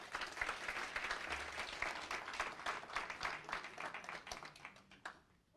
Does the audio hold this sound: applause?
yes